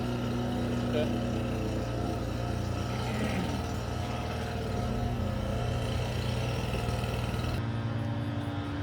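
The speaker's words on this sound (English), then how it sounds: "sorry about the background noise. I can't control these lawnmower dudes." Lawnmowers run in the background, a steady engine drone with a low constant hum throughout, fairly loud and continuous, easing slightly near the end.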